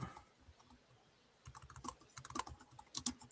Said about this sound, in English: I'm just typing it out for chat.